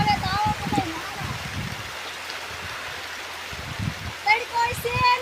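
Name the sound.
first rain of the season falling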